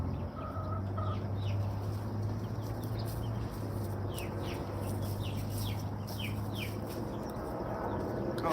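Backyard chickens clucking steadily at close range, with a Silkie chick's high chirps scattered through, over a constant low hum of outdoor background noise.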